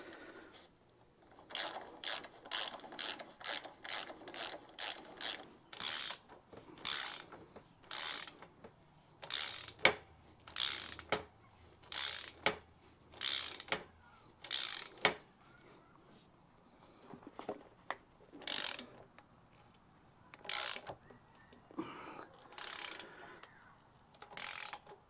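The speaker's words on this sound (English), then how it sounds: "Now we can go ahead and tighten up the fork bolts and pull the fork tubes up." Ratchet clicking in repeated bursts as fork bolts are tightened on a 1972 Honda CT90 K4 motorcycle, close and crisp, with short pauses between strokes and no talking.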